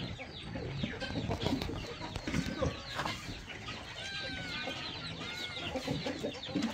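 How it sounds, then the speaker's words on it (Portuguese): Geese on a farm in Minas Gerais eat cornmeal, and a busy flock of poultry keeps up continuous close clucking and short squawking calls against a moderately noisy outdoor background. "Agora é a vez dos gansos comer fubazinha."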